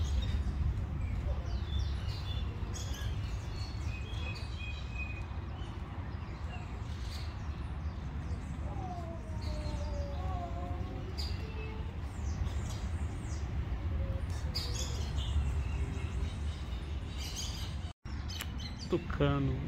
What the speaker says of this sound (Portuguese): Tucano, o pássaro símbolo do Brasil.